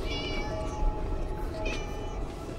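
A cat meows in a film scene set in a blood bank in Prague: a few clear, tonal mews close up, over a steady background hum with no speech.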